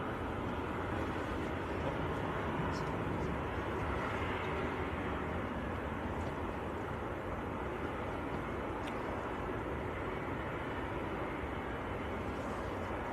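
A Hainan Airlines jet taxis at Manchester Airport, bound for Beijing, as a steady broadband engine rumble with constant level throughout, moderately distant and without voices.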